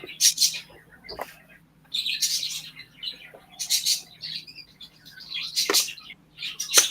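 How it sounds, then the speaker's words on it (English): Pet birds in a home chirp and squawk in repeated bright bursts, some near and sharp, separated by brief quiet gaps over a low steady hum. "My birds are being extra crazy."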